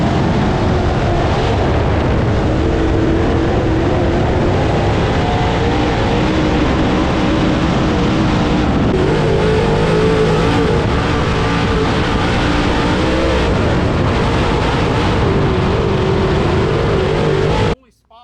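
Race cars run at speed around All-Tech Raceway, a steady loud roar of engines throughout that swells as cars pass, with a commentator talking over it.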